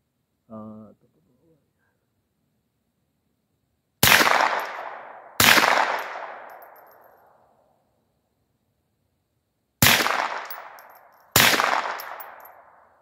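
Four loud rifle shots at an outdoor range, fired in two pairs several seconds apart, each a sharp crack with a long fading echo, preceded by a brief faint sound early on.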